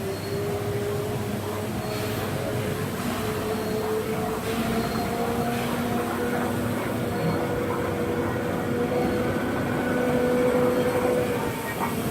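Steam locomotive of class 77 at a steam festival, a steady dense rumble of train running with a continuous mid-level roar and faint tonal squeals, fairly loud throughout with no talk.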